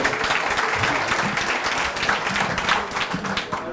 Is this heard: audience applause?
yes